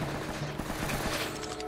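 Rapid gunfire from the video game Uncharted: Drake's Fortune, a dense, steady stretch of overlapping shots and rattling bursts filling the whole moment, fairly loud with no talking over it.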